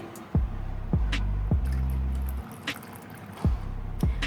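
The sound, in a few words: water being added to tamarind pulp chutney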